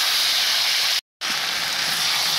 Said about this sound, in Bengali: দিয়ে দিচ্ছি কচু শাকটা